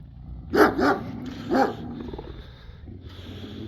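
Three sharp dog barks ring out close by in quick succession, followed by quieter low growling and rustling noises.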